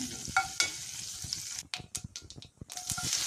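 Cumin seeds and black pepper frying in a hot pan, with a steady close sizzle, a couple of brief scrapes or stirs, and short crackling bursts as the spices pop.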